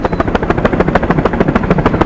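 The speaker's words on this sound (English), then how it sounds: "Iroquois helicopter had a bit of a warning light, so we put down the paddock." An Iroquois military helicopter's rotor thumps loudly and rapidly overhead, a steady chopping pulse with engine whine, very close, landing in a snowy paddock.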